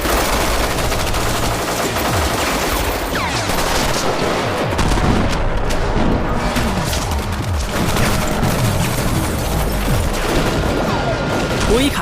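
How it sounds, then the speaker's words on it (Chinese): Automatic weapons fire in a movie shootout as an armed police squad sprays bullets, a dense, continuous barrage of loud, overlapping bursts and bangs lasting throughout. "他们不由分说开枪扫射"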